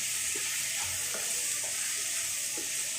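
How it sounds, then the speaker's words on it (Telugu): Sweet corn pulao being stirred in a pot with the lid off, a steady close sizzling hiss broken by a few soft spoon scrapes, with no talking. "మధ్యలో మూత తీసి ఒకసారి మిక్స్ చేసుకోవాలి అడగంటకుండా."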